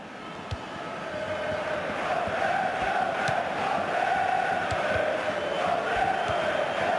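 FIFA 16 football game stadium crowd during Benfica versus Real Madrid, a dense continuous roar of chanting and cheering spectators that swells slightly, with no commentary over it.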